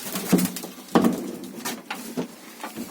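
Pigeons being fed, with soft rustling, pecking and scratching in short bursts and faint low murmurs, close and quiet.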